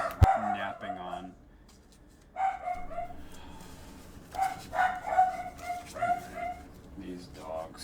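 Small dogs yap in bursts inside a house, sharp close barks trailing into whimpers, broken by brief pauses.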